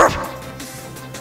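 A person imitates a Doberman barking with one short, loud bark-like vocal burst at the start, then trailing off into quiet room sound.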